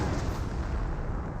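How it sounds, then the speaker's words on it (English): A Nebelwerfer rocket artillery barrage in Company of Heroes, a dense continuous low rumble of blasts with no gaps, loud and heavy throughout, no voices. "that was just a continuous barrage on the MG42"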